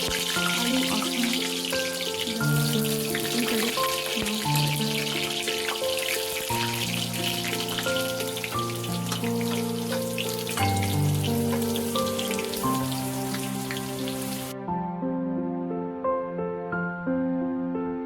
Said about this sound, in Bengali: ফার্স্টে আলুগুলো লাল করে ভেজে নেব।